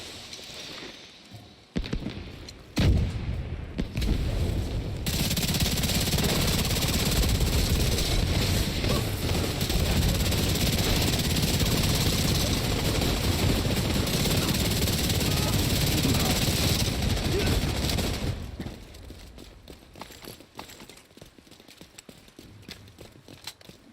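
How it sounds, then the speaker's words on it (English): A helicopter arrives in The Division 2 video game, its loud sustained rotor roar swelling in after a few seconds, holding steady, then fading away near the end. "Helo inbound to your location."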